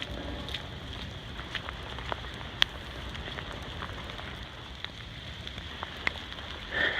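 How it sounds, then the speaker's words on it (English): Heavy rain pattering on the Wildwood Trail in Portland, Oregon, a constant fine hiss of drops with scattered sharper taps on leaves and ground nearby, no voices. "It's raining really hard"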